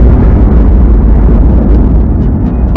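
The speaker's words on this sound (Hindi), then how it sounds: "बीच के इस भयंकर दबाव के कारण एक विशाल विस्फोट हुआ" A loud, sustained explosion sound effect in a documentary about the Sun's formation, heard as a deep, roaring rumble that fills the whole clip with no break and no talk over it.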